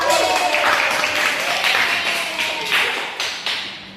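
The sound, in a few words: classroom applause for a student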